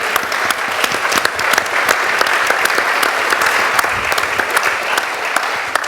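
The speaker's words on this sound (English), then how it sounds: "So can I invite this eminent society to give a round of applause to the Germans?" A round of applause from a lecture audience, dense and steady with sharp individual claps standing out, continuing unbroken for several seconds.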